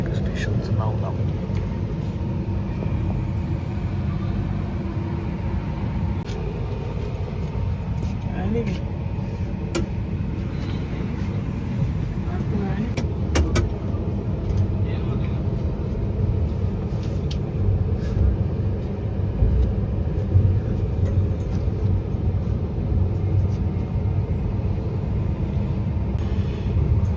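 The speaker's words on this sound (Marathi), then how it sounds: "जंक्शनमधून त्या गाडी निघाली मित्रांनो" A night train pulling out of Bhusawal junction, heard from aboard as a continuous low rolling rumble with faint rattles, while people talk over it throughout.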